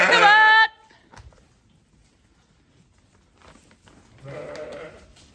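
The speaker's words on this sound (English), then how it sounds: "So we're just bringing the ewes in." Ewes bleating on a farm as they are brought in, one loud close call at the start, then a quieter, more distant bleat near the end, with footsteps and faint movement between.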